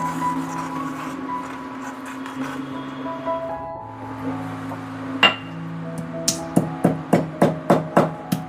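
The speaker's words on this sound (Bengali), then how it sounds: "দুটো এলাচ ফাটিয়ে দিয়ে দিলাম।" Cardamom pods are cracked open, heard as a run of sharp, close clicks and taps that quicken toward the end over a low, steady background hum.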